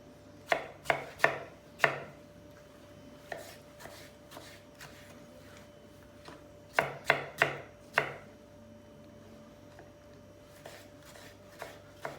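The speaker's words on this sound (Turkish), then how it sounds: "Burada üç tane de soyulmuş domates var. Onu doğruyoruz." Three peeled tomatoes are chopped with a knife on a board in quick bursts of sharp, close taps, two clusters of several strikes separated by pauses, quiet overall.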